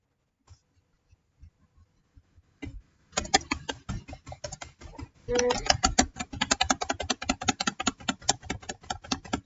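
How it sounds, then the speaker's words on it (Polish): Typing on a computer keyboard up close: a few scattered key presses at first, then a fast, continuous run of clicky keystrokes with no talking. "Jest to, to klawiatura."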